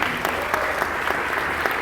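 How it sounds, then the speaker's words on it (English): An audience at a church graduation ceremony breaks into loud, sustained applause, dense clapping with sharp individual claps standing out throughout. "Let's have one more round of applause before we start."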